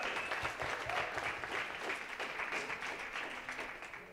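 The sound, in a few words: audience applause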